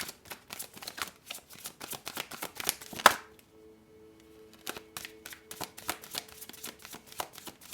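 Oversized tarot cards being shuffled by hand, a close series of crisp riffling flutters and slaps with a brief pause partway through, no voices.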